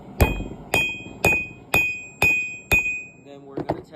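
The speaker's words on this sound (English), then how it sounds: "So we'll take that out and start hammering on it." A blacksmith hammers a spike knife blade on an anvil, with seven loud, evenly spaced ringing metallic strikes about half a second apart, each with a bright clang. Lighter clinks follow at the end.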